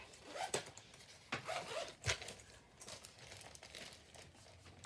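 Hands rummaging through a bag, with close crinkling, rustling and zipper-like scrapes in uneven bursts while someone searches for a roll of red tape.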